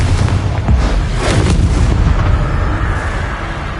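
A Confringo explosive spell bursts in the Hogwarts Legacy video game, a loud booming blast with rumbling low end that fills the whole moment amid ongoing combat noise.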